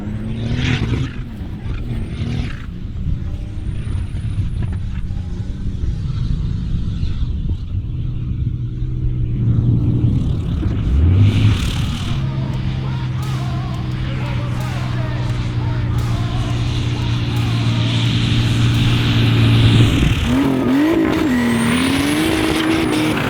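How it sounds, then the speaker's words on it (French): A turbocharged BMW 530i drifts a wide circle in fourth gear, its engine holding a loud sustained drone with a tire squeal and revs that rise near the end, while people talk over it. "Là l'idée c'est d'essayer de faire un grand cercle en drift en 4ème vitesse."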